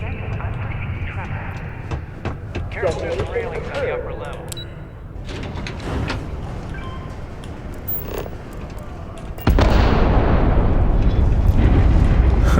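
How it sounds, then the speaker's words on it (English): Explosions going off in the video game Starfield, a dense rumbling roar of blasts and crackling bursts, with a sudden louder surge near the end. "The explosion's still going off."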